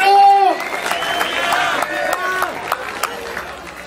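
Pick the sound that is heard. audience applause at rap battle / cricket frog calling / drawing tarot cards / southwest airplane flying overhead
audience applause at rap battle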